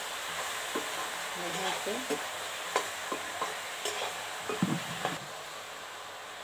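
Pointed gourd (parwal) pieces are stirred with salt in a pan, a faint frying hiss under scattered scraping knocks of a spoon, with a woman's brief remark.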